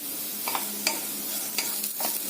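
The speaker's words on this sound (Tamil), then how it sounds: "இந்த பிரண்டை வறுக்கிறதுக்கு ஆறு ஏழு நிமிஷம் ஆகுங்க" Pirandai (adder's creeper) frying in oil in a pan, a steady soft sizzle with a few stirring scrapes and clinks, close by, with no talk.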